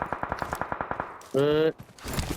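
Gunfire in PUBG: a rapid, evenly spaced burst of shots, loud and close, then a short sustained metallic tone and a final scatter of noise, with no talking.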